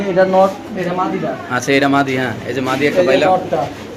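Desi and white lakka pigeons coo softly at a pigeon seller's loft, the low murmuring calls partly buried under steady nearby talk from people throughout.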